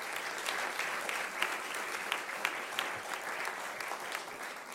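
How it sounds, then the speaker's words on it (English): Dinner guests applaud the executive chef at a Fourth Estate Award dinner, a full room clapping in dense steady rhythm with a few sharper claps standing out, moderately distant and lasting throughout. "let's have a round of applause for our executive chef, Susan Delbert"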